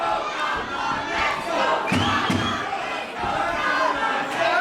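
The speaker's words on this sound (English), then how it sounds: "Big crowd support here for Jem Kaplan, as you can hear." A large crowd at a live wrestling show cheers and chants loudly and continuously in the arena, with a commentator talking over the noise.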